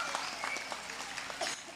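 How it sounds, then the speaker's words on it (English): Audience applause at an elementary school promotion ceremony: a steady wash of clapping from a crowd, dense and continuous throughout, with no speech over it. "Can we have one more round of applause"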